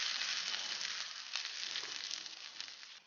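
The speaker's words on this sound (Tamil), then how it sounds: "கருவேப்பிலை நல்லா ஸ்லோவில் விட்டிங்கன்னா பொரிஞ்சிடும்" Curry leaves sizzle and splutter steadily in hot oil for a Jaffna-style coconut sambal, a dense crackling hiss with a few sharper pops, close and fairly loud throughout with no talk.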